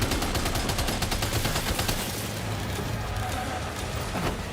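Machine gun fire in the video game Death Stranding 2, dense rapid bursts of shots that are loudest in the first half and then settle into a rumbling, busier mix of gunfire.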